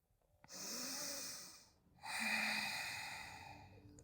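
Deep breaths during a vinyasa flow yoga session, two long audible inhales close to the microphone separated by a short pause, breathy and soft with no talk.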